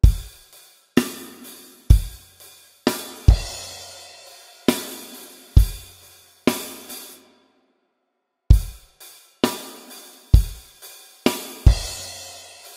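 A drum beat is played slowly on a drum kit, with single loud hits spaced about a second apart and crash cymbal struck together with the bass drum, plus one short pause partway through and no talking.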